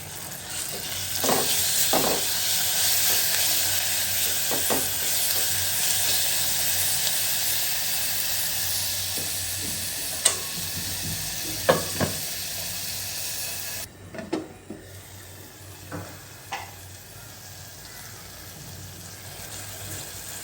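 Spice paste with onion and garlic paste frying in a pan, a continuous close sizzle that drops in level partway through, with occasional utensil taps and scrapes.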